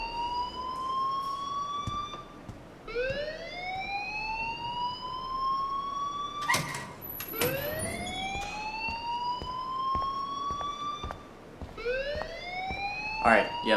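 A fire alarm rings in the video game Life is Strange, repeated rising electronic whoops with sharp bursts between them that carry on steadily and loudly for the whole stretch with no talk.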